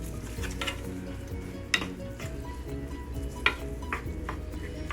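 Beef Oxo cubes, cut into pieces, stirred into a sizzling pan, with a steady frying hiss under scraping and two sharper clinks of utensil against the pan, no talking.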